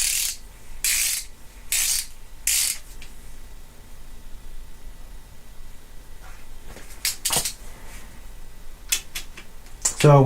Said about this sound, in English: So we're here, torquing them to 11 foot-pounds.